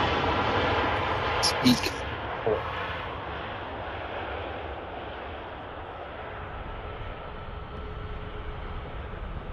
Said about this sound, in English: Another Ryanair on the taxi in there, just landed earlier.